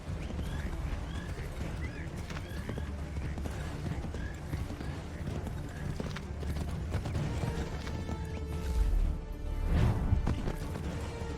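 Horse hooves clip-clopping in Assassin's Creed III Remastered, a rapid galloping rhythm with thuds and a crashing impact near the end, mixed with game sounds and faint background voice.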